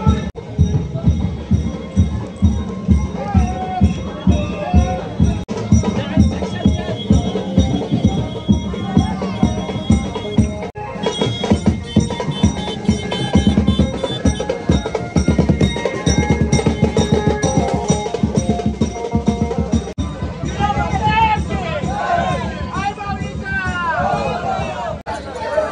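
At the Ekvira Aai palkhi procession in Ghansoli village in 2024, a festive crowd celebrates loudly, with dense shouting and babble over a steady, driving rhythmic beat that continues throughout.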